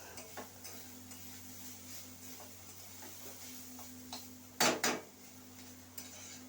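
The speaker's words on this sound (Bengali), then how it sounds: "এবার থোড়ও কিন্তু প্রায় ভাজা হওয়ার পথে।" Banana stem (thor) with a little sugar frying in a pan, a faint low sizzle with occasional stirring scrapes and a brief louder clatter of utensils near the end.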